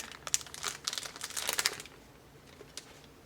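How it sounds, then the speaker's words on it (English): Thin plastic packaging from a microfiber sponge is pulled open close up, giving a burst of crisp crinkling and rustling that fades to a faint handling rustle. "it comes with a little, some crinkling plastic for you"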